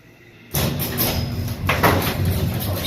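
A motorized garage door opener starts abruptly and runs with a steady mechanical whir and rattle as the door moves. The sound stays fairly close and continues with a brief clunk partway through, with no voices.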